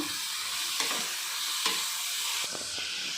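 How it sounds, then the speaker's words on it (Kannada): Kohlrabi and carrot curry with salt sizzles in a hot pan while a spoon stirs it, a steady close frying hiss broken by a few scraping strokes, with no talk. "ಈಗ ನೀಟಾಗಿ ಮಿಕ್ಸ್ ಮಾಡ್ಕೊಳ್ಳೋಣ"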